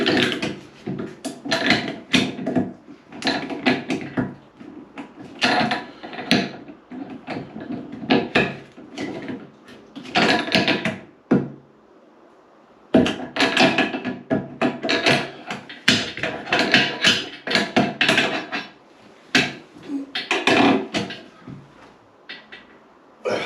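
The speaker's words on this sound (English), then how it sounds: "get the spanner back on it." Spanner tightening a nut onto the bottom of a tap: repeated metallic ratcheting and clicking strokes in irregular bursts, close up, with a short pause midway.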